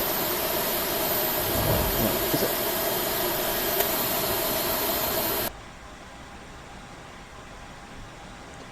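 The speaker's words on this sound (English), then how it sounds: "Starting engine 2" An A320 jet engine spools up in Flight Simulator X with a steady, loud whooshing hiss for about five seconds. The sound then drops abruptly to a quieter hum, with a brief spoken question over it.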